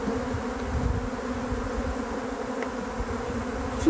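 Honeybees droning steadily over a brood frame lifted from a hive, a dense continuous buzz held close and even throughout, with no voices.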